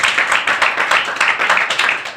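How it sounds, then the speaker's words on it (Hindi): A training-session audience claps in a loud, rhythmic burst, the hand strikes pulsing evenly and close by without any talk. "तो एक बार अपने लिए ताली बजाओ"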